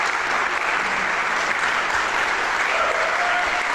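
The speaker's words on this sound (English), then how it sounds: "There's the applause." A concert audience applauds with dense, sustained clapping, even and loud throughout without any voices over it.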